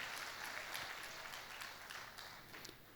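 Applause from an audience at a women's church conference, a steady broad wash of clapping with scattered sharper claps, fairly even in level throughout and gradually easing toward the end.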